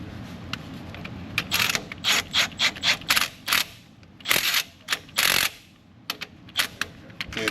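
Impact gun pulling a bolt through on a car under repair, with bursts of rattling hammering, several short runs separated by pauses, close and loud.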